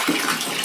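Water rushes steadily into a plastic bottle, a brief continuous gush of pouring liquid, close and fairly loud, with no voices.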